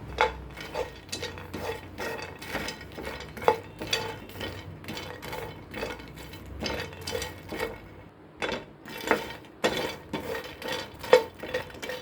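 Makhana (fox nuts) roast in a pan over medium heat as they are stirred, giving repeated clinks and scrapes of a utensil against the pan in an irregular rhythm, with light rattling in between.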